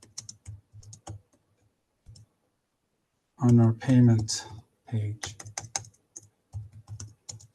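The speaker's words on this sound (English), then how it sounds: "I'm just typing that too as I speak." Computer keyboard typing during an online weight loss surgery webinar: bursts of quick, close key clicks in uneven runs, partly alongside a man's speech.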